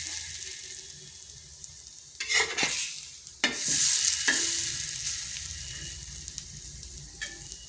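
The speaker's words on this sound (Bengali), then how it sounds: "আঁচটা স্লো আঁচে রেখে ভাজতে হবে" Bread slices frying in a pan on a low flame, a soft steady sizzle punctuated by louder bursts as the slices are flipped, close and fairly quiet with no talk.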